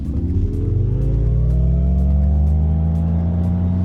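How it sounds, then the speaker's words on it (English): An MG Cyberster electric sports car accelerating hard in super sport mode, a loud, close electric motor whine that rises steadily in pitch, with rolling road and tyre noise underneath and no talking. "So when you press this, you go into super sport mode, which gives you maximum acceleration."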